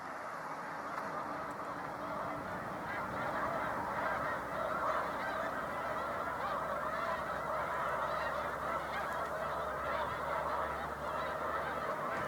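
A large flock of snow geese on Cayuga Lake keeps up a dense, continuous chorus of honking from some distance, many overlapping calls blending into a constant clamour without pause.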